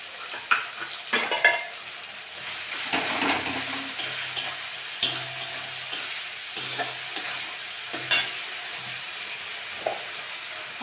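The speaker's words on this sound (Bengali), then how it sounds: "আমি আদা রসুন বাটা 1 চামচ দিয়ে দেবো।" Ginger garlic paste sizzles in hot fish oil in a pan, with a steady frying hiss broken by sharp scrapes and clinks of a spatula stirring, close and alone.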